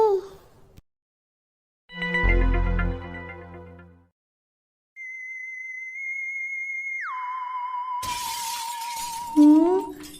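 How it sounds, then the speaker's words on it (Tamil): A sudden crash of shattering glass amid quiet, followed by tonal electronic beeps and a burst of noisy clatter toward the end. "என்ன கிளாஸ்லாம் உடையிற சத்தம் கேட்குது?"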